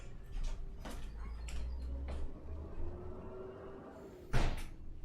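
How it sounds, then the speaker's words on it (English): A front door knocked open by a passing garbage truck gives a few hollow bangs and rattles spaced a second or so apart, with a low engine rumble underneath and a louder final knock. "The trash truck is so ferocious it knocked open my front door."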